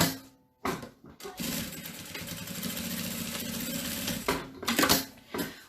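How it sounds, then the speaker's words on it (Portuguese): An electric sewing machine stitches elastic onto a fabric medicine pouch, running as a steady whirring hum for about three seconds, with quieter clicks and handling noises before and after. "Passo a costura."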